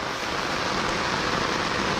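Heavy rain pours beside a stream, a dense, unbroken hiss that stays loud and even throughout without any voices.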